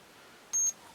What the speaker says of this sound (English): This one beeps for some reason